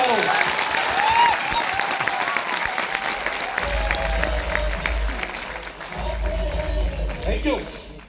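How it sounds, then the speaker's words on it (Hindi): An audience at a meeting claps together in a sustained burst of applause that swells and fades, with a voice speaking over it at times. "एक ताली बजा के बता दो कि आप तैयार हो।"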